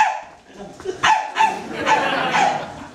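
A person at a comedy show in a Marrakech lounge imitates a dog, giving several short, loud barking and yelping sounds with a whimpering edge in close succession. The sounds mix with voice-like noise and room ambience.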